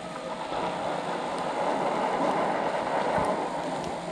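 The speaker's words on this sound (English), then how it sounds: "our battery is connected, leading up to our fan. You can hear it's running currently." Battery-powered blower fan drawing air through a homemade wood gasifier feeding a generator, a steady broadband whoosh running continuously at close range with no talk.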